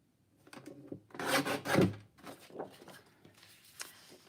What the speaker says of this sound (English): let's trim this down.